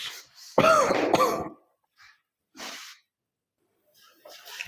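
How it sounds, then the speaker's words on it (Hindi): A man's couple of harsh, close coughs in quick succession, then quieter breathy huffs and sniffs with pauses between them. "खांसी बहुत ज्यादा हो रही है"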